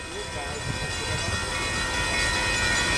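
A Coaster commuter train rolls past on the rails at Carlsbad Village, giving a steady, loud broadband rumble and wheel noise that holds for the full three seconds, with faint voices underneath.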